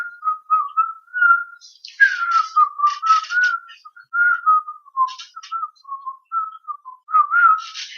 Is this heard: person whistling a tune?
yes